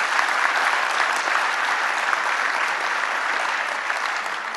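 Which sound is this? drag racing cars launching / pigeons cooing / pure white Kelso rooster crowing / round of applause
round of applause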